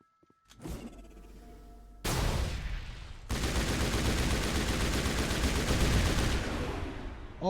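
Gunfire in Mass Effect: a short burst of shots, then loud sustained rapid fire that keeps crackling for several seconds, with a sharp blast right at the end.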